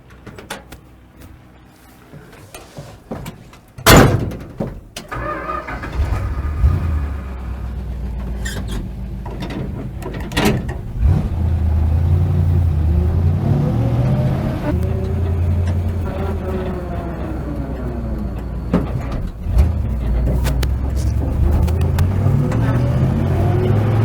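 A Dodge A100 shop truck starts off and drives down the road, its engine revving up through the gears with rising and falling pitch, with some cabin rattles and clunks and occasional talk inside.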